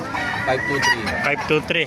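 Roosters crow and chickens cluck close by, several birds calling over one another in a busy, continuous chorus.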